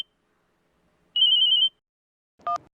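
A phone ringtone chimes in one steady electronic burst of about half a second, followed by a short, separate beep a moment later.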